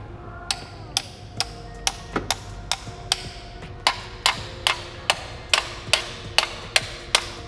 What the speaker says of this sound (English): I'm gonna hammer this into the RTV and work its way around to break this thing loose